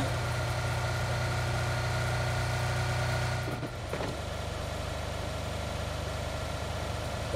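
Vehicle engine in PUBG Mobile on the Erangel map, a steady droning hum while driving that dips briefly midway through and then settles into a constant, slightly lower drone, with no talking.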